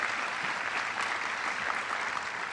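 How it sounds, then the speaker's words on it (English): Luncheon audience applauding families being honored, a brief burst of steady, moderately distant clapping from many hands. "So let's give all of those families a round of applause as well."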